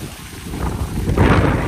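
Strong wind at a hillside resort in Saputara, rushing as a broad, steady roar into the microphone and swelling louder toward the end, with no talk over it.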